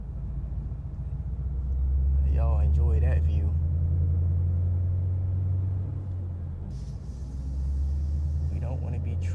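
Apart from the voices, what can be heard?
Ford Mustang GT with headers driving, engine rumble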